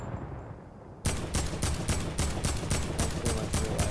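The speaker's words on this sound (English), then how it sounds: "excuse me, this is a gunfight" Gunfire in a Fortnite gunfight bursts in after a quiet second, a rapid string of about a dozen loud, evenly spaced shots, close and punchy, continuing to the end.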